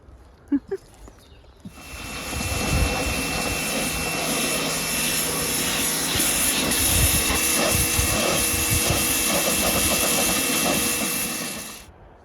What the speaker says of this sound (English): So I'll get all that jet washed off